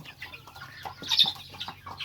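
Mixed-breed chickens, a cross of junglefowl, bantam and village hens, clucking softly in a farmyard, with several short murmured calls overlapping at close range.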